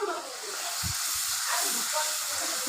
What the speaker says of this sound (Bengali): এবার মশলাটা খুব ভালোভাবে একটু কষিয়ে নেব